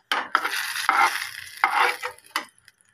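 Chopped green chilli, dried chilli and nigella seeds fry in hot oil for an eggplant bhujji, sizzling in loud bursts as a spatula stirs and scrapes the pan, close up with short pauses between strokes.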